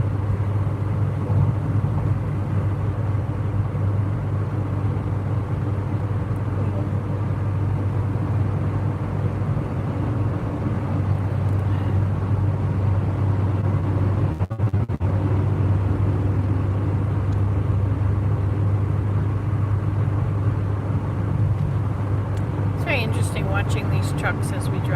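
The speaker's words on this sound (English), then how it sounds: "Watching these trucks as we drive by." Trucks passing on a road, heard from inside a moving vehicle as a steady low engine and road rumble that runs throughout, with one brief dip and a faint high rattle near the end.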